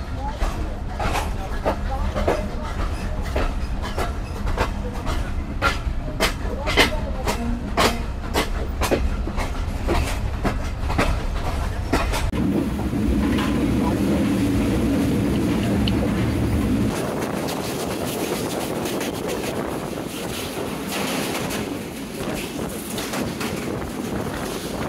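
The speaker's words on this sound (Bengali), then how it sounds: "বাংলাবন্ধ এক্সপ্রেস বিকেল 5:08 ছেড়ে গেল নাটোর রেলওয়ে স্টেশন থেকে।" Banglabandha Express train pulling out of Natore railway junction, a loud continuous rumble with rhythmic rail clatter and wind buffeting the microphone, the clatter thinning into a steady roar as it moves away.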